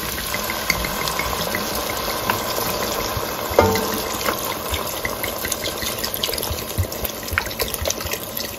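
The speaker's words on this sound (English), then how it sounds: "Now we're gonna deglaze with some red wine." Red wine pours into a pot of braised beef short ribs to deglaze, a continuous close liquid splashing and sizzling hiss, steady throughout with small bubbling pops.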